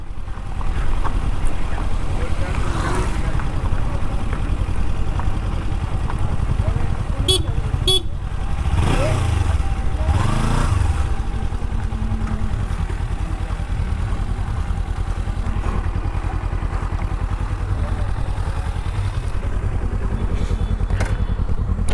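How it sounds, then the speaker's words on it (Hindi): Riding a Kawasaki Ninja 300, a two-cylinder 300cc sport bike, on Indian roads: a continuous low engine drone with wind rush, a couple of revs swelling and fading midway, and a short horn-like toot. "What a fun motorcycle."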